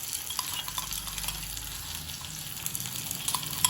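Onions sizzling and frying in a pan in a home kitchen, a steady close crackle with occasional stirring scrapes, no talk.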